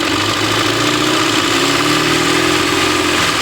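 A car engine idling steadily and loudly up close, with a smooth low hum that rises gently as the throttle is eased open, with no talk over it.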